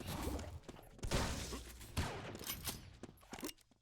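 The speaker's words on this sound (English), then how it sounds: "But instead he's being shot with a shotgun." Repeated shotgun blasts in the video game Doombringer, a rapid run of sharp, loud shots over about four seconds, with a commentator's voice running underneath.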